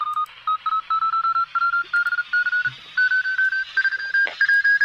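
A steady run of short electronic beeps, quick tone bursts in irregular groupings like Morse code, climbing slightly in pitch, loud and close.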